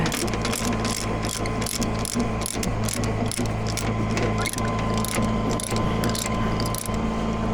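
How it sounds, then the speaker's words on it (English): A ratchet chain binder is cinched tight, giving a rapid, regular series of loud clicking ratchet strokes close by over a constant mechanical hum, with no talk. "Grab chain binder, cinch it tight."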